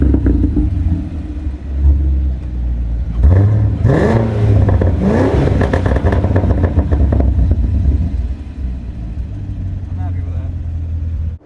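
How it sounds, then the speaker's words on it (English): Cadillac CT5-V Blackwing fitted with an AWE SwitchPath exhaust, revving hard in loud rising and falling surges over a steady deep rumble, with people talking over it. "it definitely sounds like a throaty muscle car"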